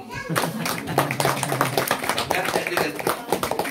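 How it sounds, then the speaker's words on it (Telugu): An audience at a singing gathering in Melbourne, Australia, claps in a fast, steady rhythm, with voices mixed in under the claps throughout. "ఒకసారి చప్పట్లు"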